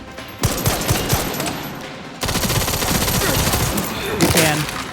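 Rapid automatic gunfire bursts in the video game Resident Evil Requiem, with dense volleys of shots running almost continuously, loud and close, while a player's voice comes through faintly underneath.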